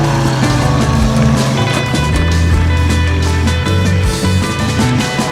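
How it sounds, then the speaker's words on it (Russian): Homemade tracked all-terrain vehicle built on a Moskvich base drives off through snow, its engine droning loudly and steadily with clattering track noise, over background music. "Заводим двигатель, и оживший монстр попросту срывается с места, поднимая в воздух раскромсанный гусеницами снег"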